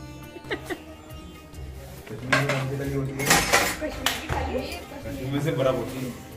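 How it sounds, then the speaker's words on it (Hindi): Dishes, pots and pans are washed at a wedding-anniversary gathering, with clattering clinks and knocks of metal utensils coming in bursts, close by, while people talk over them. "दुल्हन यहाँ पर बर्तन साफ कर रही है"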